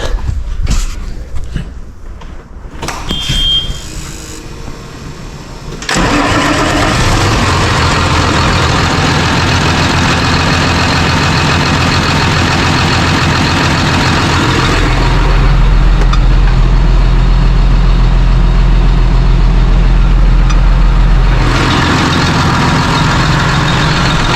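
Engine-driven air compressor in a busy workshop: short clunks and rattles, then a loud steady engine drone with pumping that starts and runs continuously, rising in intensity midway, no voices.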